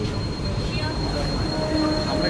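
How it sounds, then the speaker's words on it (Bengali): An AC local train pulling into Khardah station in West Bengal, heard from inside as a continuous loud rumble of wheels with faint high metallic squeals and murmuring voices underneath. "আর আমাদের ট্রেন কিন্তু ঢুকে গেল খড়দা স্টেশনে"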